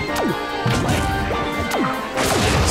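Squirtle's crawl attack in a Super Smash Bros match, a series of quick whooping swoops and sharp hitting smacks in rapid succession, loud and busy against game background noise.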